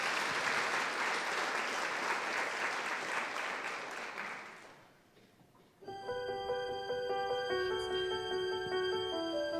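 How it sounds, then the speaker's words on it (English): Audience applause at a hospice anniversary celebration evening, dense steady clapping for a choir that fades out after about five seconds before piano and singing begin. "A round of applause one more time for the fantastic Grace Notes."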